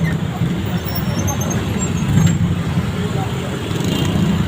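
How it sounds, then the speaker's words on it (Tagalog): Heavy street traffic rolls past in a dense, continuous roar of many vehicles, loud and close, with a slight swell midway and faint chatter mixed in. "Sobrang dami ng sasakyan oh, traffic."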